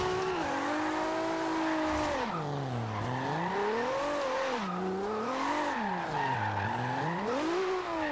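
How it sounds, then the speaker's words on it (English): A Toyota Supra drifting in Forza Horizon 2 holds a loud, continuous engine note that rises and falls in long sweeping waves, with tire squeal layered over it as the car slides through turns. "Trying to drift this thing as much as possible."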